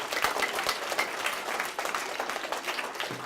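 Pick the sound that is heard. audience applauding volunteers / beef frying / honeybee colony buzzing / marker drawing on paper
audience applauding volunteers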